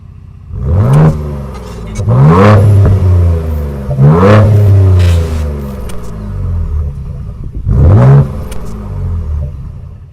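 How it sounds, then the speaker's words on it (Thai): A Ford Ranger Raptor with a 3.0-litre diesel V6 roars through four sharp, loud revs, each climbing quickly and falling away, with a steady idle between bursts. "พร้อมปล่อยภาพทีเซอร์และเสียงคำรามของเครื่องยนต์สุดโหด"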